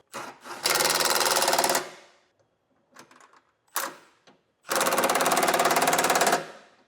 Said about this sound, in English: we're going to go ahead and tighten up our hardware.